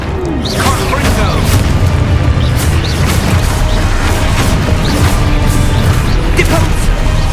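Confringo spell blasts in the Hogwarts Legacy video game, heard as dense, continuous booming explosions and crashes that fill the whole stretch at high loudness, with a voice briefly calling out over the din.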